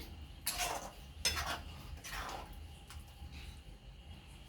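Vegetables stirred in a pan for a restaurant-style mixed veg dish, with three scraping, clattering passes of a utensil against the metal, each about a second long, followed by quieter faint clinks.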